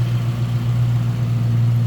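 A 1967 Ford Mustang Coupe engine idles close by with a steady, even low rumble and no voices.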